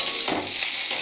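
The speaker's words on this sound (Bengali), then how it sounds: "আমি প্রথমে কড়াইয়ে সর্ষের তেল, শুকনো লঙ্কা আর গোটা জিরের ফোড়ন দিয়ে কুমড়ো, আলু, উচ্ছে এগুলো দিয়ে একটু ভাজাভাজি করে নিয়ে" Pumpkin, potato and bitter gourd frying in a wok of mustard oil tempered with dried chilli and whole cumin, a steady close sizzle with a brief stirring scrape.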